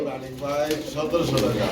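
Domestic pigeons kept in pairs for sale, one pair laying eggs, give soft throaty coos in a steady murmuring run, close by, with voices talking faintly underneath.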